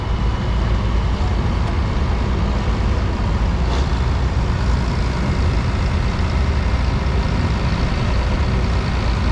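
A 1985 Tiger FM 325 tractor fitted with a Komatsu motor rolls along in a tractor parade, its diesel drone steady and loud from start to finish, with broad engine rumble and no clear voices over it.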